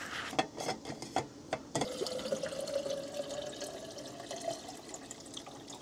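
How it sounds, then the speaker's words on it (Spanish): In an RV, a few sharp clicks and knocks are followed by water flowing steadily into a container for a drink, a soft close trickle. "Vamos a tomar agua porque me estoy muriendo de sed."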